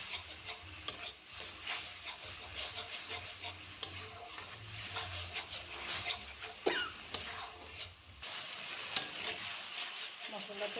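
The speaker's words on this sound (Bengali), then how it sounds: "দিয়ে ভালো করে মশলাটা ভাজতে হবে।" Cumin powder, coriander powder and red chili powder fry in hot oil, giving a steady close sizzle broken by the repeated scrape and clink of a spoon stirring the pan, with no talking.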